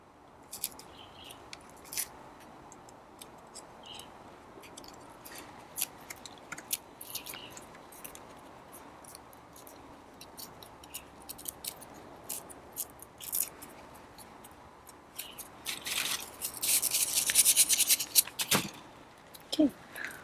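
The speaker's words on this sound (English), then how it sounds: "And then I peel the first layer of the peel." Dry papery outer skin being peeled by hand from freshly harvested garlic bulbs: quiet, close crinkles and sharp little snaps scattered irregularly, building to a denser rustling burst near the end.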